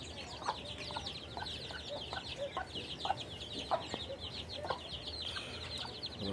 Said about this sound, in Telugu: పుంజు పుంజు